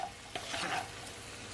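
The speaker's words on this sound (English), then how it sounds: "I'm gonna give it a stir." A spoon stirs Jamaican pepper shrimp in a hot pan, with a brief scrape and clatter over a soft, steady sizzle.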